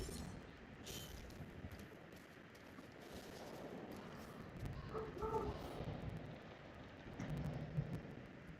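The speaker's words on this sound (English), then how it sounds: "There it is, the surge storm." Thunder rumbles low and steady through a video game surge storm, mixed with rain-like wash, swelling a little around the middle and near the end with no talk.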